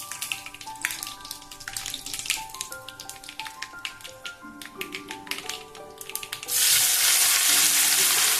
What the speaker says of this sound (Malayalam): ഇതെല്ലാം കൂടെ നല്ലോണം ഒന്ന് ഇളക്കിയതിന് ശേഷം നമ്മൾ കട്ട് ചെയ്ത് വെച്ചിട്ടുള്ള നാരങ്ങ ചേർത്ത് കൊടുക്കാം